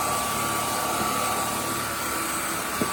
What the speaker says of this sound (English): So I'm just gonna quick run the vacuum on our tiles in the kitchen.